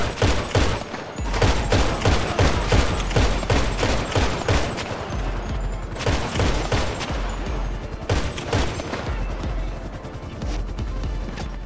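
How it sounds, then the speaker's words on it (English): Rapid, loud Marksman Rifle Mark II gunfire in GTA Online, a dense run of sharp shots in fast succession that pauses briefly and then resumes, with no talking. "The Marksman Rifle Mark II isn't particularly powerful, but it lacks in power it makes up for in fire rate."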